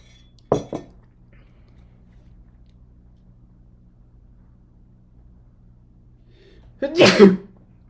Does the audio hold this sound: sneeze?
yes